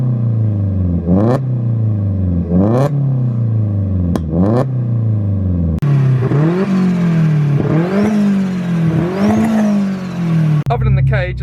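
A 360bhp Mk4 Golf engine revved hard, several sharp rising throttle blips with crackling falls back to idle, then a longer run of repeated revs, loud and close.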